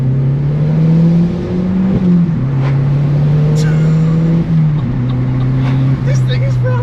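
A modified Volkswagen Fox hot hatch accelerates hard on the road with a loud, steady engine drone that dips briefly at each gear change. Excited talk from inside the car is heard over the engine.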